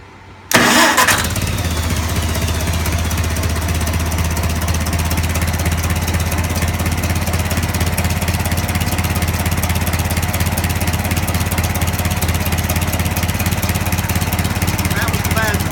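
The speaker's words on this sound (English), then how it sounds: "This is how a tractor is supposed to run." A 1955 International 300 Utility tractor engine, repaired after a bad lifter, runs steadily at a close, loud, even idle after a brief start-up burst, with a constant low throb for the rest.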